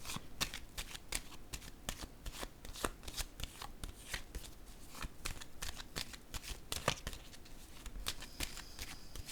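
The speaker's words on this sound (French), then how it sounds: "Je vais déposer une carte ici." A card is set down on a table during a card game, heard as a steady run of light, close taps and soft flicks with no talking.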